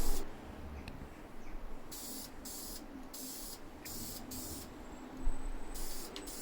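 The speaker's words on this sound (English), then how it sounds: "I go back and I'm spraying the engine enamel really thick" A spray can lays thick coats of engine enamel onto an Ibanez guitar body, with several hissing bursts of a second or so each, separated by pauses, close and fairly quiet.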